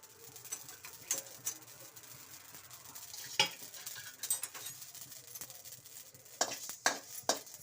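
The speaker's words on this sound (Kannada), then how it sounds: "ಸಾಸಿವೆ ಮೆಂತ್ಯ ಎರಡನ್ನ ಹುರಿಬೇಕು ಡ್ರೈ ರೋಸ್ಟ್ ಮಾಡಬೇಕು" Mustard seeds and fenugreek dry roast in a pan, giving faint, scattered crackles and pops with light scraping as they are stirred, the pops growing quicker toward the end.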